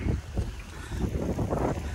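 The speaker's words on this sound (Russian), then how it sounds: "Блин, ветер дует вообще." Wind blowing outdoors beside the Chernaya river near Sysert on a warm autumn day, roaring steadily across the microphone as low, rumbling gusts rise and fall, with no talking.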